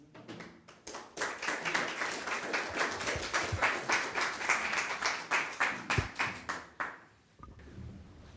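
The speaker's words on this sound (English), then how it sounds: "Round of applause to Elio D'Anna" A conference audience in Rome applauds a speaker with a strong round of hand claps that swells quickly, holds steady for several seconds, then fades out to quiet room tone.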